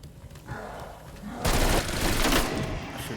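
Dense automatic gunfire erupts from Call of Duty Cold War Zombies, loud and sustained rapid bursts after a quieter lead-in, with a voice faintly underneath.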